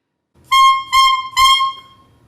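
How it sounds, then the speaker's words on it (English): Three short, bright, buzzy squawks from a bare clarinet reed and mouthpiece, each a held high honk, played alone and close. "The reed itself on the mouthpiece sounds like this."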